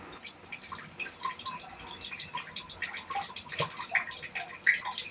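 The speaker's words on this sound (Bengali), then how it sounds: "বেসিনটা পাইপ খারাপ হয়ে গেছে, ওখান থেকে জল পড়ছে।" Water dripping and trickling from a broken basin pipe, a continuous run of small irregular drips and splashes heard fairly close with a soft watery background.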